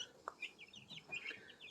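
Young turkey poults and baby chicks peep with short, high chirps, scattered and fairly near, with a brief sharper call near the start and no talking.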